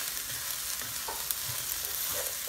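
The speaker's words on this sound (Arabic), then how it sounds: "نحرك شوي ان شاء الله" Chicken stirred in a pot of broth seasoned with salt and chicken stock powder, a soft steady sizzle with light scraping strokes running throughout, close and moderately quiet, no talking.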